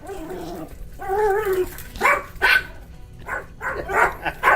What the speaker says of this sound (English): you guys can hear them barking, right?